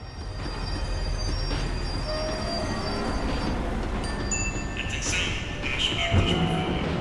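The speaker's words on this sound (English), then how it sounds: "The tram was slowing down, and I'd only just gotten on board." A video game tram rolls along with a continuous rumbling clatter of wheels on rails, steady and fairly loud, with squealing metallic brake tones near the end as it slows.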